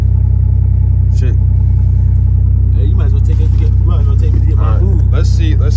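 A Mercedes sports sedan, driven after sitting unused for over a month, gives a steady, loud low engine drone with rumble throughout, while voices talk over it.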